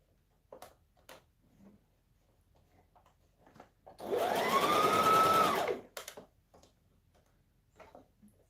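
Sewing machine running a rolled hem foot along blouse fabric: one steady, close whirring run of about two seconds, framed by faint ticking clicks of handling before and after, no talk.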